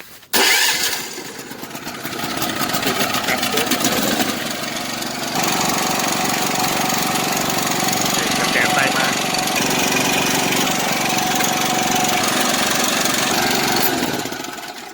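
A petrol generator engine cranks and catches, then settles into a loud, continuous, buzzing, clattering run close by for the rest of the time.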